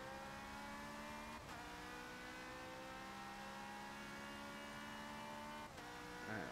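A race car engine in Forza 7 drones at steady high revs, then briefly drops and climbs again twice as the throttle is worked, with faint tire noise and no talking.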